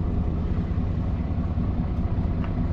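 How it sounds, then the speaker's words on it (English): A big Caterpillar diesel on a 40-foot Wayne Beal boat roars loud and constant, a dense low rumble mixed with wind buffeting, heading across choppy Buzzards Bay. "The engine in this boat is so loud."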